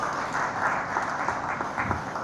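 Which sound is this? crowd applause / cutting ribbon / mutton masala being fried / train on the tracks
crowd applause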